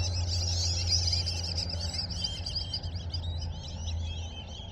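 A flock of birds chatters and calls continuously at night beside a wood fire, steady chirping over a low crackling, rumbling background.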